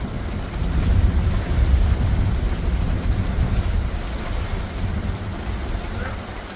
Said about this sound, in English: Good old monsoon storm.